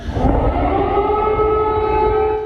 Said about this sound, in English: they woke to the sounds of air raid sirens